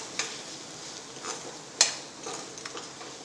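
A spoon stirs tomato ketchup and schezwan sauce together in a bowl, giving soft, quiet scraping with a few sharp clinks against the dish, with no talking.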